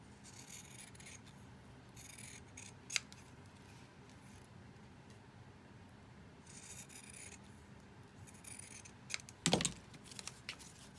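Small scissors snipping to trim a decorative tag, a few quiet close cuts with light rubbing and paper handling between them, one louder snip near the end.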